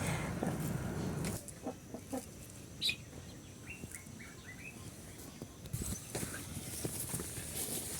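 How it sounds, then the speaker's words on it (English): Farmyard chickens, a flock raised from small chicks, cluck and call in a series of short, fairly close bursts against a busy outdoor background with intermittent knocking and rustling. "we have decided to start with small chicks that will eventually grow up and multiply"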